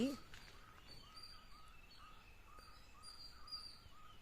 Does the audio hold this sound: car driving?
no